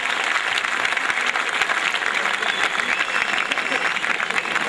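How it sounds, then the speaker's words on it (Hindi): A hall audience at an IIT Roorkee poetry gathering gives a poet a hearty farewell, with dense, loud, sustained clapping throughout and no pauses. "एक बार पूरा सदन जोरदार तालियों के साथ में विदाई दे डॉक्टर विष्णु सक्सेना।"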